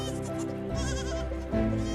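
Animated sheep bleating in a children's story, a couple of wavering drawn-out bleats close and clear with no talk over them.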